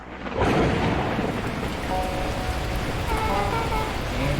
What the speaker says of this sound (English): the heavens opened up, unleashing torrential rain